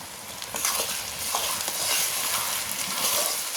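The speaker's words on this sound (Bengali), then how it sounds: "তো মশলাটা আমি ঢেলে দিলাম।" A blended paste of ginger and dried red chilli is tipped into a hot frying pan, setting off a soft, continuous sizzle with a few stirring scrapes, close and fairly quiet.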